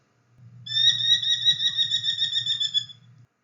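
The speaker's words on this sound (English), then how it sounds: "So like here's a merlin" Merlin falcon calling alone: a rapid, steady series of sharp, high-pitched ki-ki-ki notes lasting about two and a half seconds, fairly close and clear over a low background hum.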